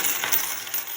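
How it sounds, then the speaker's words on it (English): Lots of coins drop and jingle together in a brief, bright metallic clatter of scattered clinks, heard alone without talk. "Lots of coins made that noise."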